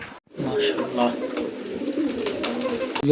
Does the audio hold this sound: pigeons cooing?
yes